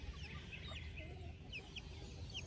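A mother hen that has been pecking at her grown chicks clucks steadily in a farmyard, soft and somewhat distant over a constant low background hum, with no voices.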